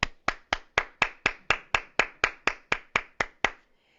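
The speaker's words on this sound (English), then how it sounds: "Please join me for 5 seconds of applause for their efforts." About fifteen crisp, evenly spaced claps ring out one after another in a slow steady rhythm at a celebration evening, sharp and close with a slight room echo, stopping abruptly.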